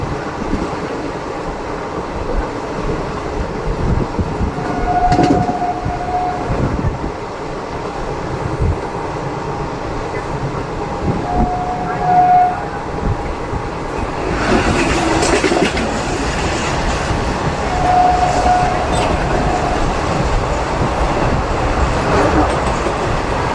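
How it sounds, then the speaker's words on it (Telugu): Simhadri Express train passing Brahmanagudem halt station without stopping, a continuous rumble of wheels and carriages with clickety-clack and a brief swell midway, heard alone. "మన ట్రైన్ వచ్చేసండి బ్రాహ్మణగూడెం హాల్ట్ రైల్వే స్టేషన్ అయితే స్కిప్ చేస్తుందండి."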